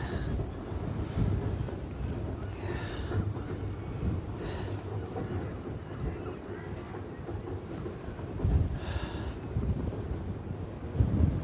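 Wind gusting across an exposed outdoor spot at St Ives, blowing steadily and buffeting a microphone with low rumble throughout, with faint speech-like sounds in the background.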